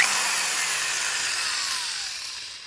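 An oiled spot weld drill bit cuts into a spot weld on a rusty first-generation Toyota 4Runner rocker panel, a steady high-pitched whine with a slowly falling pitch, close and alone, no talking.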